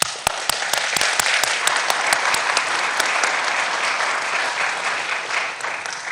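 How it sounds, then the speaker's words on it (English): At a city council meeting, staff are honored with a burst of applause: a few sharp, close individual claps ring out first over a broad crowd clapping that continues steadily and then gradually thins. "So I just want to give each of you guys a round of applause and say thank you for what you do."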